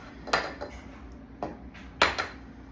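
Two eggs cracked against a bowl while making an oatmeal bake: a few sharp, close taps and clinks spaced apart, a louder doubled knock near the end, with no talking.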